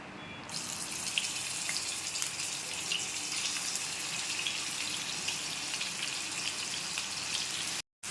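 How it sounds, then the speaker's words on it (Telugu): Ginger garlic paste frying in hot oil, a steady close crackling sizzle that holds broadband and even throughout, cutting out briefly near the end. "ఆ ఆయిల్లోనే ఈ అల్లం వెల్లుల్లి పేస్ట్ వేసి కొంచెం బాగా వేపుకుందాం"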